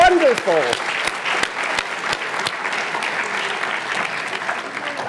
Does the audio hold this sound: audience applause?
yes